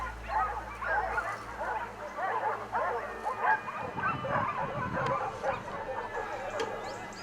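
Hunting dogs bark and yelp excitedly during a Spanish boar hunt, many overlapping barks at a middle distance with a low rumble underneath.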